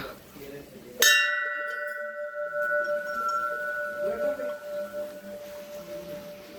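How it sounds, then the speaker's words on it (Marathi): A single strike of a bell at an old temple near Rajmachi Fort rings out loudly, its metallic tone lingering and slowly fading while a voice murmurs in the background. "घंटा वाजून आशीर्वाद घेऊ."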